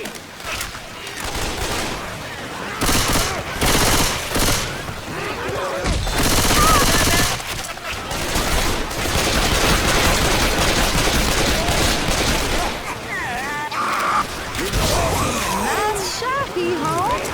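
Gunfire in the video game Left 4 Dead 2: dense bursts of automatic shots and rapid fusillades mixed with game effects and a brief sliding screech, loud and nearly continuous, with in-game voices talking over parts of it.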